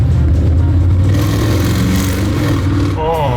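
Engine of a motorcycle held at about ten percent throttle gives a steady, deep, throbbing drone close by, rising slightly near the end, with no speech.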